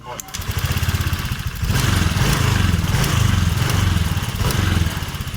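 A Honda Vario 125 scooter engine cranks steadily during a compression test on a weak-running engine, producing a loud, rhythmic mechanical churning with a brief pause near the start.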